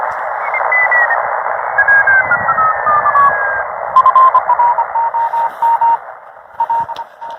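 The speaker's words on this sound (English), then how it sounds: "here you can hear stations that it's picking up as I tune" A ham radio transceiver hisses with band noise while tones slide and shift as it is tuned across stations, ending in steady on-off beeping Morse code signals.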